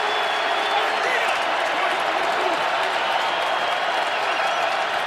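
Steady roar of a large stadium crowd at an NFL game, Patriots at Titans in Tennessee in 2018, filling the air continuously and loudly without a break.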